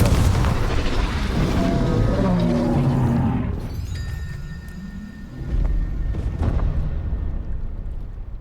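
A Confringo explosive spell blast from Hogwarts Legacy booms loudly with a roaring rumble, then fades into a softer rumbling tail before a second, weaker burst, with no voices.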